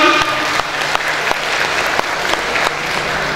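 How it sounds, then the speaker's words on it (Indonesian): An audience at a public debate between mayoral and deputy mayoral candidates in Dumai applauds the candidates. The clapping is loud, dense and steady and runs for the whole stretch. "Tepuk tangan untuk para calon."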